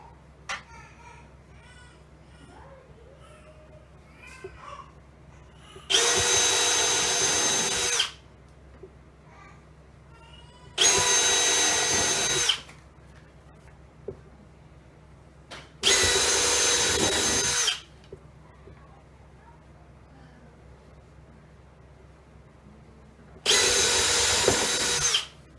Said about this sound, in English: Just basically doing a pilot hole for the screws.